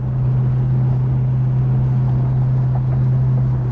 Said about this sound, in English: That old 446 pack just kicked in and moves this great big old Roadrunner right down the road